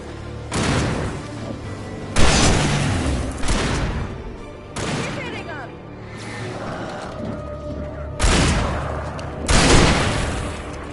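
Gunfire from the video game Alan Wake in repeated loud bursts and booming blasts, several heavy volleys separated by brief lulls, with no talking.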